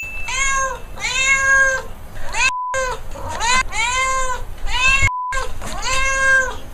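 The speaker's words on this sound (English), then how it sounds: "I'm just going to ask my cat Wallace to take it from here" A cat meows loudly and insistently, close to the microphone, a series of long drawn-out wailing calls with brief silent gaps between them.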